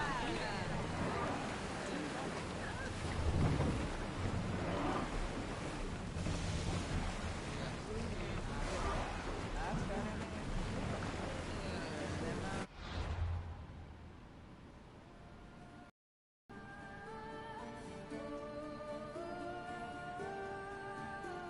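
A ship sets sail in Assassin's Creed Odyssey, with loud rushing wind and surging sea wash for several seconds that then cut off abruptly, followed by a quieter passage with voices speaking and tonal music.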